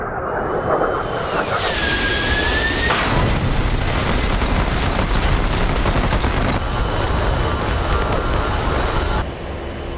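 An A-10 Warthog in a video game fires its gun and sets off explosions, a dense, roaring burst of gunfire and booming blasts that keeps up loudly for the whole stretch with a brief shift near the end, and no talking.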